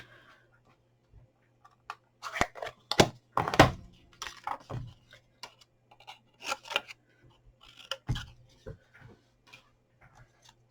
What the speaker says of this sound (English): So just get your scissors and just follow that round.